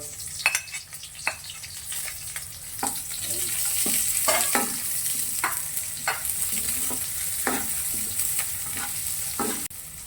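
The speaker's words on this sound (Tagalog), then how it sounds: "Lagay natin na idol yung sibuyas mga idol." Onions sauté in a pan for chicken-gizzard adobo with coconut milk, giving a steady sizzling hiss broken by repeated scraping and clinking of a spatula stirring against the metal.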